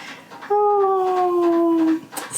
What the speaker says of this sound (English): The dog's down here helping me clean it up.